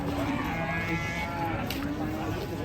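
Cattle low in long, drawn-out moos over the busy, noisy background of a cattle market in Indonesia.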